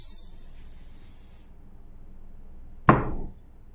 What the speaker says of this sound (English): So I'm going to spray the inside of the container.